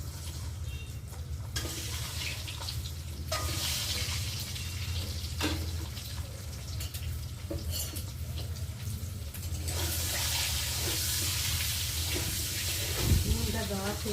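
Eggs frying in hot oil in a kadai seasoned with salt and turmeric, a steady broad sizzle running throughout with occasional clinks and stirring, faint speech-like sounds mixed in.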